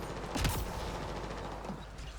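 Bursts of video game gunfire crackle through a steady background rumble, with the loudest volley early on and fainter shots trailing after.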